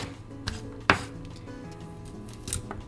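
Chinese chives being finely chopped with a knife on a cutting board for Japanese gyoza filling, a few soft, sparse chopping taps close by in a quiet kitchen.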